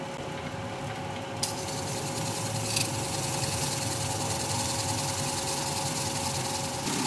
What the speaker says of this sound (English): I'm going to spin the lathe up, about 600 RPM